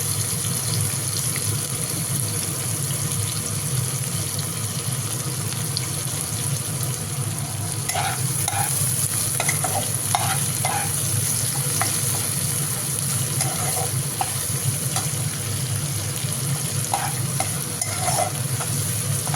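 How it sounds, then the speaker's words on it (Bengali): Onions fry in oil in a pan at home, a loud, unbroken hiss and crackle with intermittent stirring clicks and scrapes in the second half, no speech. "এবার পেঁয়াজটা একটু লাল লাল করে ভেজে নেব"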